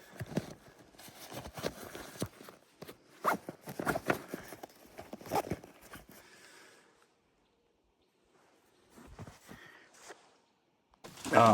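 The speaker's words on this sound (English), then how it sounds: "if you line the zippers up, you can easily access it on the move." Zippers on a Maxpedition Keystone sling bag being worked open, a run of quick scratchy zipping strokes up close for several seconds, then a pause and a few more brief pulls.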